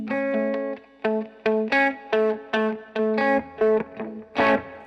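A Morley AFX-1 analog multi-effects pedal set to echo on an electric guitar: a series of plucked notes and chords, each with a short repeating slapback tail, up close and fairly loud with no talking.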